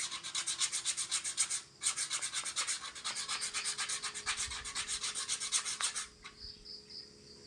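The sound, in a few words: sanding wooden ladle with coarse sandpaper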